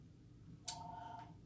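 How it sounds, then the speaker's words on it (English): A home telephone gives a single short electronic ring, faint and in the background, over a quiet room. "sorry about the phone. We don't answer our home phone."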